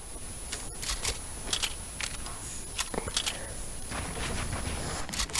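Scattered gunshots crackle in a video game build fight, several quick sharp bursts over a constant noisy game background, moderately loud with no speech.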